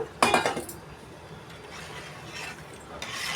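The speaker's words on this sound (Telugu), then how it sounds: "బాగా కలుపుకోవాలి చిక్కబడిన దాకా." A spoon stirs thickening ragi malt in a pot. A sharp metallic scrape and clatter opens, then softer rasping strokes follow, close by and with no talk.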